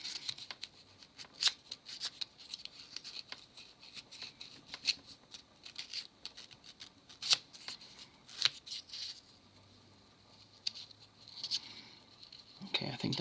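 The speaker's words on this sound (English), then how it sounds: "So there's a lot of like jagged little pieces, so I just want to sand these down." Jagged wooden puzzle pieces from a 3D wooden city puzzle are sanded by hand, giving quiet, close, scratchy rubbing strokes in an irregular rhythm, with short rasping bursts and light clicks between.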